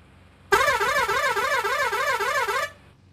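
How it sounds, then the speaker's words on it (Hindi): Bus horn in the video game Indian Bus Simulator: a single loud, sustained warbling blast lasting about two seconds, rising and falling rhythmically, then cutting off abruptly into quiet. "बस हॉर्न और धासु है भाई"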